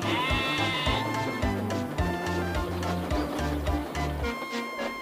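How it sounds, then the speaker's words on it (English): Several sheep bleat repeatedly and loudly over a steady musical background, their wavering cries overlapping in quick succession. "The frightened sheep scampered out of the way."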